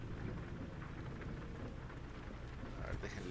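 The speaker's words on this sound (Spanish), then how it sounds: "Sentir la lluvia y el motor haciendo..." Steady rain in a horror video game, a dense continuous patter with low rumbling underneath like a running engine or distant thunder, fairly quiet throughout.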